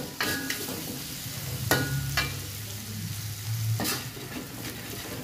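Spice paste of galangal and ginger for soy-sauce beef fries in a pan under a steady low sizzle, with a few sharp scraping strokes of a spatula spaced a second or two apart, heard up close without talk.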